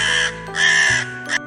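A crow caws loudly in three harsh, drawn-out calls with brief gaps between them, close and alone against a quiet background, used as a story sound effect about a thirsty crow searching for water in a desert.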